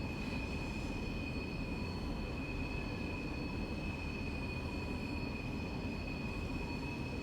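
Train rumbling into London Euston in Train Simulator Classic on a foggy London to Birmingham run, a steady, close, continuous roar of rolling stock with a faint high whine riding over it throughout.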